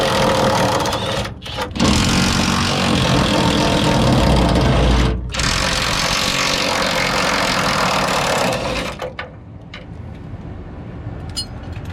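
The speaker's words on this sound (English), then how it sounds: "So I'm gonna go grab my 18mm and my impact and pull these things off." An impact wrench with an 18mm socket loosens bed bolts on a 1999-2007 Chevrolet Silverado/GMC Sierra pickup, running in long, loud, close rattling bursts with brief pauses, then trailing off to quieter workshop noise.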